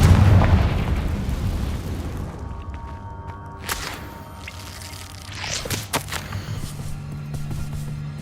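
A Confringo blasting spell from Hogwarts Legacy goes off with a heavy boom at the start, then fades into a low rumble, followed by a few faint crackles and pops.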